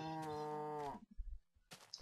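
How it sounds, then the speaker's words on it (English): A cow in the video game Minecraft gives a single low, drawn-out moo lasting about a second, clear and close, followed by faint footstep-like game sounds. "Oh, it's just a cow."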